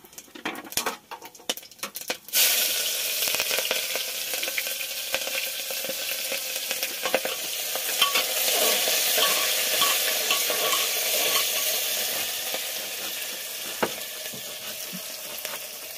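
Onions frying in a pan inside a truck give a steady, close sizzle with repeated scraping and patter of stirring, heard alone after a few brief opening clatters.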